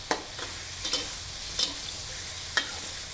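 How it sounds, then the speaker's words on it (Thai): Squid and shrimp are stir-fried over high heat in a pan for a dry seafood suki dish. A steady sizzle runs under sharp, intermittent scrapes and clinks of the spatula, with no talking. "ผัดให้หมึกกับกุ้งมีความสุกนะระดับหนึ่งเลย"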